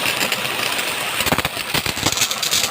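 A power sprayer's engine runs hard at high pressure, a loud, continuous broadband roar with a rough, pulsing drone, heard up close and alone.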